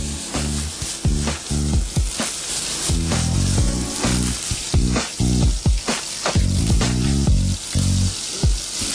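Stir-fry vegetables sizzle in a pan with a knob of butter, a loud frying hiss broken by repeated clattering tosses and stirs in an uneven rhythm.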